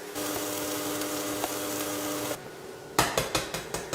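Steady sizzling hiss of a Havarti and bocconcini sandwich toasting in a pan, then after a brief drop a series of sharp tapping knocks in a loose rhythm, close by.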